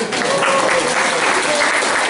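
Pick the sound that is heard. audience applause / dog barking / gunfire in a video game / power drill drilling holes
audience applause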